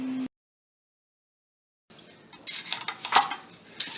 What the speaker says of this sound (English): So I'm gonna real quick stir in the milk